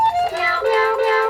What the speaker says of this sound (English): Cat piano.